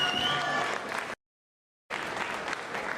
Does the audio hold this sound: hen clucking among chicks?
no